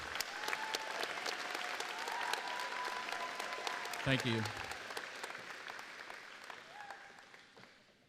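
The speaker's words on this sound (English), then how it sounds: "please join me in another round of applause for our merit honored graduates" Steady audience applause rings out at a high school graduation ceremony for honored graduates, continuous clapping with a crowd murmur, a brief spoken thanks and a ringing electronic tone partway through.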